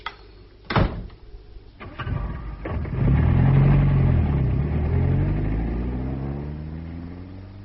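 A car pulls away in a tense Cold War spy drama scene, a door clunk and quick thuds first, then a loud engine swelling and accelerating steadily into a sustained rising drone.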